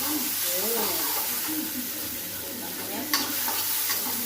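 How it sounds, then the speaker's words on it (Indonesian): Minced garlic, shallots and onion sauté in a hot pan for risoles filling, giving a steady hissing sizzle with a sharp clatter near the end; faint tonal voice-like traces sit under the frying. "Tumisnya dengan bawang putih 3 siung sama bawang merah bawang bombay cincang setengah potong ya"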